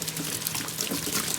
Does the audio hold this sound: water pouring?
yes